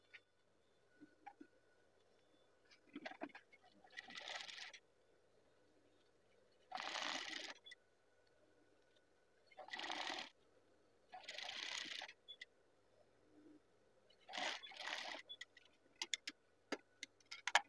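A sewing machine stitches the collar of a batik shirt, running in several short bursts of fast, rattling stitches. Quiet pauses with small clicks and handling noises separate the bursts, and the machine sounds close and fairly quiet.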